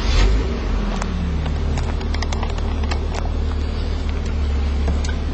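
A Datsun 280ZX turbo with 187,000 miles runs with a steady, loud low engine rumble and a rough mechanical drone that continues unbroken throughout, with no voices.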